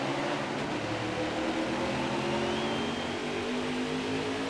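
Race car engines roar together at a NASCAR Cup Series race start at Martinsville in NASCAR Heat 4, a dense, steady engine drone that holds loud and unbroken throughout.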